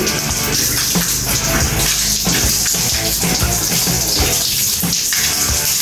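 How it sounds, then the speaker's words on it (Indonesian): Water gushes steadily from a tap during ablution washing, a loud continuous splashing stream close by with no pauses. "menyalakan keran"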